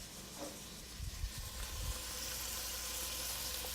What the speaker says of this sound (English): We cook our onions and garlic together